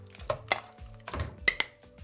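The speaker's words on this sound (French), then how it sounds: "On met tout notre mélange dans une casserole." Clattering of a beet mixture being tipped into a saucepan, with several sharp metallic knocks and clinks of utensil against pot over about two seconds, close and fairly quiet.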